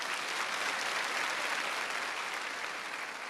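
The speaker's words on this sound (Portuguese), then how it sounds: "uma salva de palmas para Jesus." Congregation at a Catholic preaching event gives a steady round of applause, many hands clapping in an even, continuous wash at a moderate distance with no voices over it.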